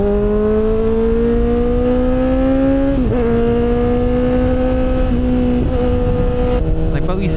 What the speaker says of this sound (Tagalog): Yung tunog ni Z1 yan